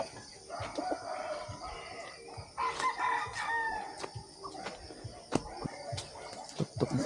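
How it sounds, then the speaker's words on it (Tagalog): Chicken crowing and clucking nearby, with repeated sharp calls and clucks against a steady rural background. "Patok-tok ni sa manok."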